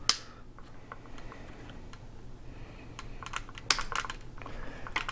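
Body scissors snip away the plastic corner of a servo tray on a micro RC crawler, giving a scatter of sharp, irregular clicks and crisp snips up close, with a louder cluster near the end over a steady low background hum.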